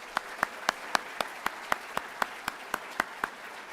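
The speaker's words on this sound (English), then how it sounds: "Let's all give them a round of applause." Applause at an eighth-grade middle school promotion night, heard as slow, evenly spaced claps carrying clearly over a quiet hall background, with a faint wash of other clapping beneath.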